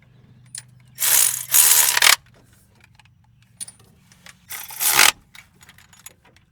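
A ratchet clicks rapidly in several short bursts while spark plugs are installed in a 1972 GMC, close and crisp with quiet gaps and light metallic handling between.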